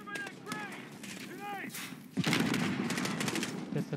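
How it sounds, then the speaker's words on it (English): A grenade blast amid gunfire in the Call of Duty Modern Warfare video game: rapid gunshots and a dense explosive burst that swells midway and stays loud, with a voice talking over the early part. "That's a grenade."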